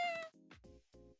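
Cats meow in a short run of three calls, the first one high and drawn out, followed by two lower, shorter mews, close and fairly clear.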